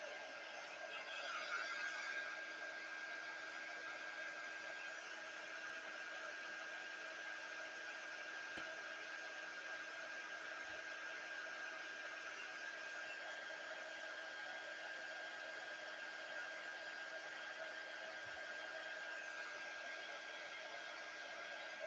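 A steady, continuous whirr of a hair dryer-like blower drying a wet watercolour reverse canvas painting, holding an even level for the whole stretch with no pauses or voices.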